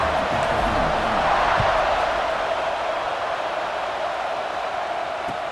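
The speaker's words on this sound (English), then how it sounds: "this crowd is buzzing after that last score" A football stadium crowd at a Michigan game buzzes after a score, a steady broad roar of many voices held at even loudness throughout, distant and diffuse with no single voice standing out.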